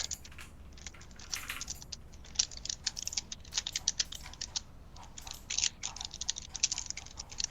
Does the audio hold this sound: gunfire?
no